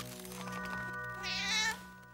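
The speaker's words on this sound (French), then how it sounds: "Qui a apporté ce chat?" A cat meows several times over about two seconds, rising into a louder, drawn-out cry near the end, heard over a soft background music bed in a French-dubbed children's cartoon scene.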